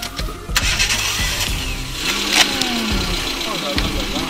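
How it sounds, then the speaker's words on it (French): A 500-horsepower car engine cranks and fires up, its rough, loud rumble climbing into a steady idle with a few revs, while people speak faintly over it. "Moteur 500 chevaux."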